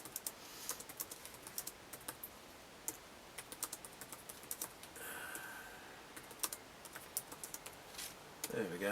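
Keys on an Acorn System 1 keypad being pressed one after another as a program is entered, a run of quiet, sharp clicks at an uneven typing pace, close by and alone.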